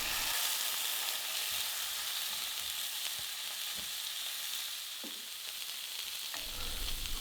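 Beef tenderloin sears in clarified butter in a pan, giving a steady close sizzle and crackle with small pops scattered throughout and no talking.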